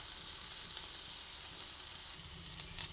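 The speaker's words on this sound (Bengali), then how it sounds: "সব আলুগুলোকে দিয়ে দিচ্ছি" Boiled potatoes, hand-mashed, drop into hot oil in a pan and sizzle steadily, a close, continuous frying hiss with a few soft bumps near the end.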